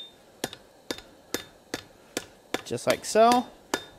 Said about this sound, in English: I'm going to finish up by hammering over the horn to help squat that cupping action down a little bit better